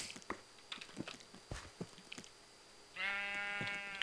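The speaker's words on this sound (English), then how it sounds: "Come on in, sheep." Sheep bleating in Minecraft, a harmonic, nasal bleat arriving in the last second after a run of sharp game clicks and thuds, close and fairly loud with no talk.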